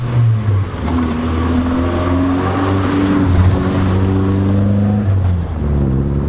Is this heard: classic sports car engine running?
yes